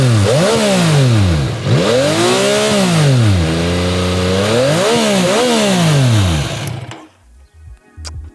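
A 2022 Yamaha XSR900 sport-heritage motorcycle revs hard through its stock twin-exit exhaust, loud and close, sweeping up and down in several long pulls before cutting off abruptly near the end.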